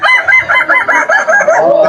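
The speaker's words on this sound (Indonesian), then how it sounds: "lomba ayam kukuk Balengge Salimpe" A Balengge rooster crows repeatedly at a Minangkabau crowing contest, loud and close, with rapid pulsing warbled calls running continuously through the moment.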